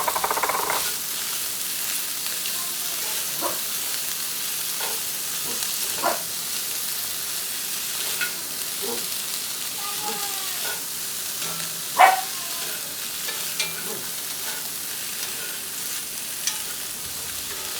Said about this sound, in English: now in a separate pan, I'm going to fry up my sausages and ham.